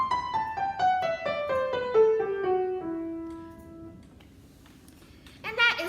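Piano playing an E melodic minor scale descending, clear single notes stepping down one after another at a steady pace, the last note ringing out and decaying before a brief noise at the end.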